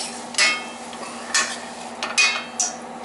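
Onions and mushrooms cooking in butter in a pan, with a soft sizzle under repeated scraping and stirring strikes of a utensil against the pan, about four or five distinct clinks.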